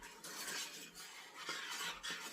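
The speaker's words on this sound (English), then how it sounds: "Let me get this stirred." Melting peanut butter gets stirred in a pot with a utensil, a quiet close rhythm of soft scraping strokes with small gaps between them, no talking.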